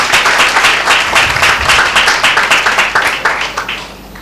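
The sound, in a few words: congregation clapping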